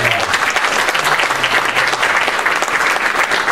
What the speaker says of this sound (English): Let's give a little bit of a round of applause.